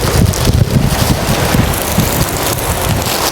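Wind gusting outdoors at an open-air cooking spot where Madurai country chicken is being prepared, a loud, steady rushing roar buffeting the microphone with low rumbling bursts throughout.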